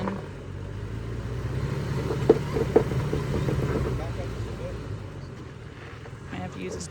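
A fifth-generation Toyota 4Runner spins its tires while climbing a rocky off-road trail at Gold Mountain in Big Bear, California, a steady rumbling engine drone at moderate distance with a few faint clunks, heard under people talking.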